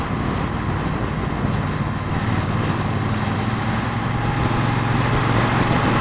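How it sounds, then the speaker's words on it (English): Motorcycle riding captured on a Sena Prism Tube helmet camera's internal mic: a steady, continuous low engine drone with broadband road and wind rush throughout, no voices. "Maybe the bike can be heard better."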